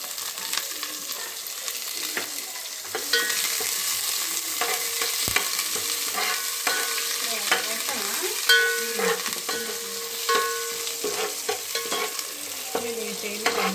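Onions fry in hot oil in a pot for chicken dum biryani, a continuous crackling sizzle with intermittent stirring and clinks of a utensil, near and steady with no voices.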